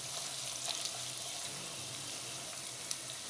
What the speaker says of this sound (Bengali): দারচিনি, বাদাম, কিশমিশ সবগুলো একটু তেলে ভেজে নিলে গন্ধটা একটু খুব ভালো আসে।